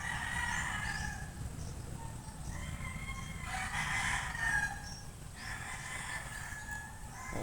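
A rooster crows repeatedly at moderate distance over steady farmyard ambience, with scattered clucking from hens around it.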